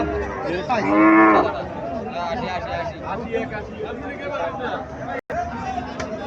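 A black desi cow lets out one loud, close moo early on, amid crowd chatter and people talking at a rural livestock market in Comilla.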